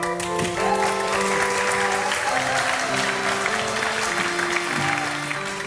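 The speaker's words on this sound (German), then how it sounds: "Dann wenden sie sich zur jubelnden und applaudierenden Menge." A crowd cheers and applauds at a wedding celebration as a couple turns toward them, continuous dense clapping under sustained music with held tones, loud and steady throughout.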